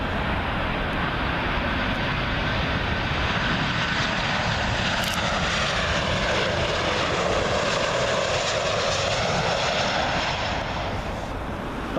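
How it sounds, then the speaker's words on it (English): A KLM Boeing 737 arriving from Amsterdam at Heathrow roars overhead, a loud, continuous engine rush with a slowly shifting whine as it passes, no voices. "It's a KLM 737 in from Amsterdam."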